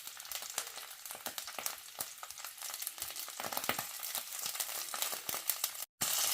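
German sausage sizzles loudly in a hot pan, a dense crackling spatter that runs steadily and cuts out for an instant near the end.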